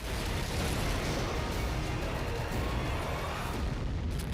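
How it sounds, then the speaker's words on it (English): Explosions from the Just Cause 3 video game trailer form a dense, loud, continuous roar of blasts and rumbling booms that runs throughout without a break. "Just Cause 3 revolutionizes the open world genre, one massive explosion at a time."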